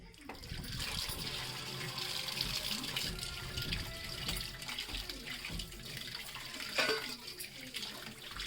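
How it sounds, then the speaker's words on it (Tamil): Tap water runs steadily into a sink as fish is rinsed clean with turmeric, a continuous close splashing under occasional clattering handling sounds. "தண்ணி சேர்த்து இந்த மாதிரி மீனை நல்லா கழுவிக்கோங்க"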